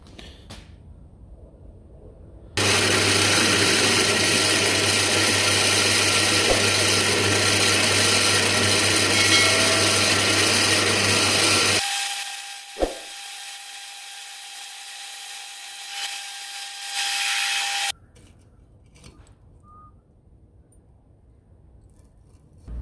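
A power drill bores holes in hand-forged blacksmith tongs, a loud steady whine running for about nine seconds, then a quieter higher-pitched whirr with a sharp knock partway through, and quiet workshop ambience before and after.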